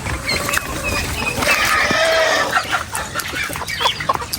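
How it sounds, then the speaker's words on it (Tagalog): Several hens cluck in overlapping bursts, fairly close, with scattered higher chirps and general farmyard bustle throughout. "Dahil may mga inahing manok din tayo dito."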